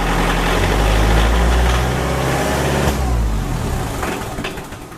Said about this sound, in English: Bring our engine RPM up to our desired half